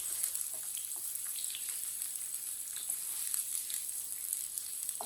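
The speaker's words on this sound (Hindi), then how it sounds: "एक बरीक कटा हुआ प्याज डाल लेंगे। प्याज को हल्का सा ब्राउन कर लेंगे।" Finely chopped onion frying in a pan for aloo baingan sabzi, a steady soft crackling sizzle with scattered light pops, fairly faint and close, with no talking.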